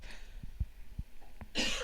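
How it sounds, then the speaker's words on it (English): A few soft, muffled low thumps give way to a single sharp, breathy cough burst near the end, close to the microphone. "I need to cough."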